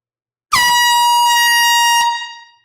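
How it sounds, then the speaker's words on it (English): A single long blast from a new air horn at a live record sale, loud and close, a steady held tone lasting about a second and a half before cutting off and fading. "That's a new air horn."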